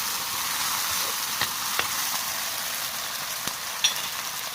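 Sardines stirred while frying in a pan with green and red chili, a steady close sizzle broken by a few soft utensil scrapes and taps.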